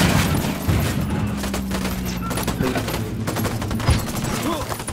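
Rapid bursts of automatic gunfire in the video game Ghost Recon Wildlands, loud and continuous, with heavy low thumps rolling through a dense fusillade.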